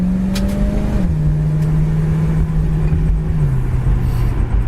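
A 1965 Ford Mustang convertible cruises down the road, its engine humming steadily and close, easing off in pitch as it shifts, with road and wind noise underneath.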